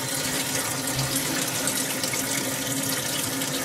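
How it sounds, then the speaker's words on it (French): A wall-hung toilet cistern refills after a flush, a steady close rush of running water with no pauses and no voices. "Donc voilà, j'ai actionné ma chasse d'eau,"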